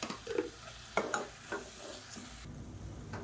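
Tomatoes sizzle quietly in hot oil while a spoon stirs them, with a few soft scraping strokes against the pan.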